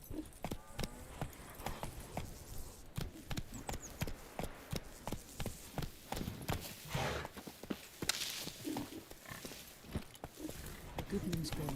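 Horse hooves galloping in Witcher 3, a steady rhythmic clip-clop of many close footfalls running the whole time, with voices talking over it.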